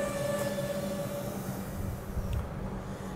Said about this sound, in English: And Frankston train now departing platform number 2 with the rear 530M.